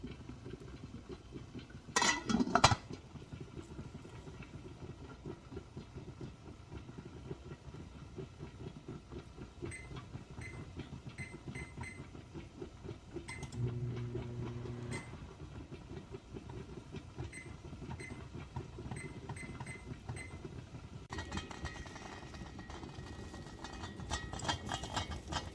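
Preserve jars boiling in a pot of water on a kitchen stove give off a steady low rumble and hiss of bubbling, with faint rattles from the jars, close and continuous at a moderate level.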